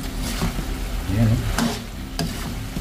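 Adobo frying in oil in a pan, steady close sizzle with scraping stirring strokes as the sauce cooks down and turns oily.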